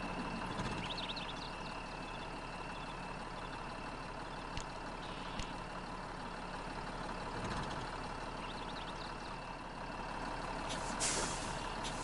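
A heavy truck in the off-road game MudRunner idles and rumbles continuously under a dense, steady engine drone, with occasional hisses like air-brake releases and faint beeps breaking through.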